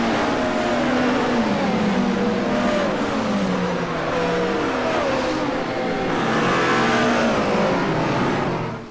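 Race cars in the Virtual Touring Masters game roar continuously as a field goes over a jump at Vitus Parc, engines loud and close with rising and falling revs and several cars overlapping throughout.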